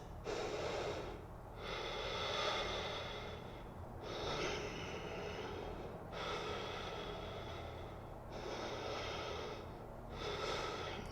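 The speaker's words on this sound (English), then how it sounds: "As you take 3 breaths." Deep, steady breathing held in a yoga pose, with long airy breaths repeating in a slow rhythm, each separated by a brief pause, close and fairly loud with no talking.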